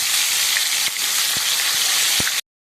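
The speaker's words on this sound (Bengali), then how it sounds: "দেখুন কড়াইতে আমি তেল নিয়ে নিয়েছি, তেলটা গরম হয়ে গেছে, এবার ভোলা মাছটাকে আমি ছেড়ে দেবো।" Bhola fish frying in hot oil in a wok, a dense steady sizzle and crackle heard close, with a few faint soft knocks underneath, ending abruptly.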